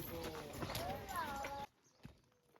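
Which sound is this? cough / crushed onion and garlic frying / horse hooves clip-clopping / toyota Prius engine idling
horse hooves clip-clopping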